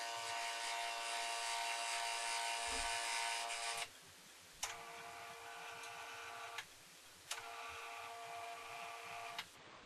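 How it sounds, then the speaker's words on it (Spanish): An electronically controlled stepper motor drives a model elevator, giving a steady whining hum that stops and restarts with sharp ticking clicks at regular intervals of a few seconds. "todo funciona de acuerdo a un motor paso a paso controlado electrónicamente"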